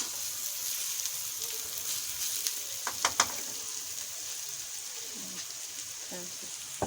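Chopped bell pepper and vegetables fry in a pan for egg fried rice, a faint steady sizzle broken by a few quick clicks and scrapes of a utensil near the middle.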